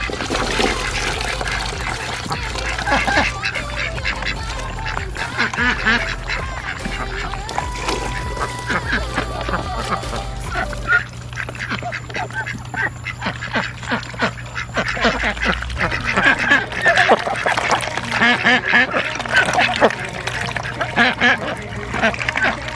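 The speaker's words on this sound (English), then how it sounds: "while the ducks are eating their vegetables" Farm ducks quacking steadily while eating vegetables, with splashing water and nearby movement, the calls continuing close and loud throughout and rising toward the end.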